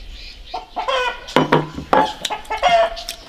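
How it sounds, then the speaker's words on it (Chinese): A rooster clucks close by like a laying hen in a quick series of throaty, uneven calls, some rising into drawn-out squawks. "看鸡公，那是跟那个母鸡下蛋一样叫"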